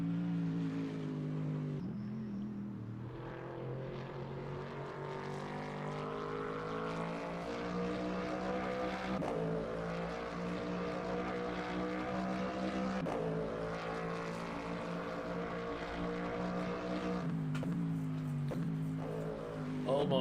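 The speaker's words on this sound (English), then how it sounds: "I know you hear the car." A GT3 race car engine in the Le Mans Ultimate sim at Sebring drones continuously and loudly, its pitch rising and dropping through gear changes across the lap.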